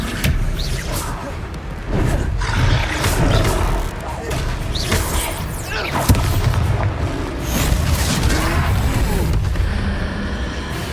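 A troll in the Hogwarts Legacy video game lets out loud, booming roars that surge and fade repeatedly over about eleven seconds, layered with heavy rumbling game effects close up.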